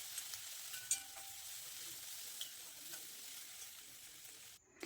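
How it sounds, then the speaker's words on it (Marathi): Garlic cloves, ginger and a few cashews sautéing in a pan for Malvani kaju masala, a soft steady sizzle with occasional small pops and clinks, fairly faint and alone. "आता यामध्ये लसूण पाकळ्या, आल्याचा तुकडा घालायचा आहे आणि इथे काही मी 2-3 काजू घेतलेत, ते छान असे परतून घ्यायचे."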